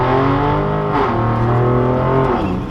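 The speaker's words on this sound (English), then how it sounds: "I am in love with this Corsa exhaust" A 2020 Ford Raptor truck with a Corsa exhaust revs and pulls loudly from inside the cab, its deep exhaust note rising and shifting through the gears over a steady rumble.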